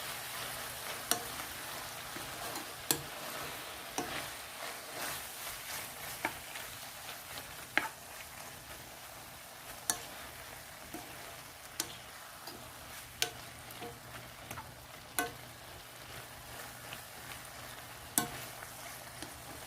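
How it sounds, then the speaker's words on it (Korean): Strips of meat for japchae stir-fried in a pan, a soft steady sizzle with sharp utensil clicks and scrapes at irregular intervals, fairly quiet and close. "고기가 이 정도로 이 정도로 볶아지면 이 정도로 볶아지면 돼요"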